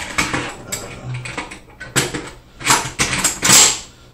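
Metal parts of a Yugo M70 AK rifle clack and creak as the bolt and recoil spring are worked back into place. Several sharp, close clicks and scrapes are separated by short pauses.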